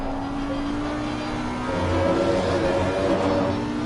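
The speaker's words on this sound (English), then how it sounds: "You could hear the way that the Audi really screams." Audi race car engine in the racing game Assetto Corsa Competizione at Kyalami, a steady high droning whine that swells louder and rises in pitch partway through, heard alone without talk.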